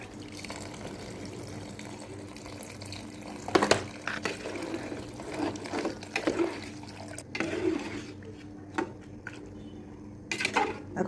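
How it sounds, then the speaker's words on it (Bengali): Water is poured into a cooking pot for vegetable khichuri with green peas, a soft running splash that swells and fades in uneven bursts before trailing off. "এবার পানি দিয়ে দিচ্ছি।"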